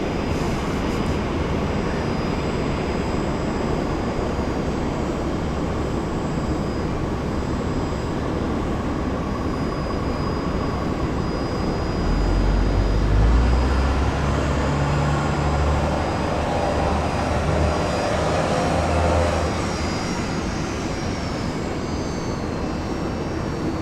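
Airliner in retro livery pushing back at Brisbane International Airport, a loud steady engine roar and whine heard from nearby, with a deeper rumble building midway before easing off.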